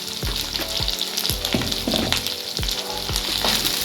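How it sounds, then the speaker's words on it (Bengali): Capsicum and onions frying in a pan, a loud continuous sizzle broken by regular scraping strokes of a spatula stirring, close and steady throughout with no voices. "ভালো করে ক্যাপসিকামগুলোকেও পেঁয়াজের সাথে ফ্রাই করে নেব"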